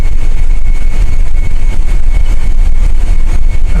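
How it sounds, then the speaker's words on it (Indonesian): A MAN B&W main engine runs in the engine room of a large gas tanker, making a loud, steady, close-up rumbling drone with a constant mechanical whine above it and no voices. "ini view kamar mesin gue ya, ini mesin utama, main engine, MAN BMW"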